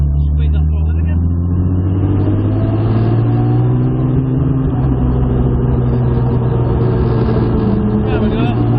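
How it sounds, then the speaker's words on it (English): A modified Jaguar E-type engine drones loud and close under throttle, its pitch rising gradually and then holding steady. Someone speaks over the engine throughout. "Squeeze that throttle in again."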